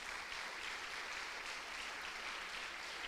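A church congregation claps hands during a Portuguese-language sermon, a soft, distant, continuous patter of many hands that stays level and unbroken from start to finish.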